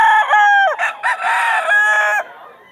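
White hennie gamefowl roosters crow loudly and close at a Bulacan pet market, with a long crow and several overlapping crows running back to back.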